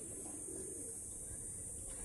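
A pigeon in a loft, a faint, low coo under a persistent high hiss of background noise; short and distant-sounding, no talking.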